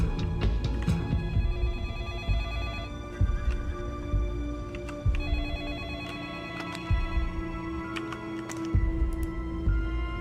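Telephone ringing in the video game Splinter Cell: Pandora Tomorrow, a repeated electronic bell-like trill recurring steadily over ten seconds amid low game background noise, with no speech.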